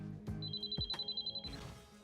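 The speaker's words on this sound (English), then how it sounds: "the phone rings at the Aragalo home." A home telephone rings with a rapid trilling electronic bell, one clear burst of repeated pulses heard close and fairly loud over a dim background, with brief thumps around it.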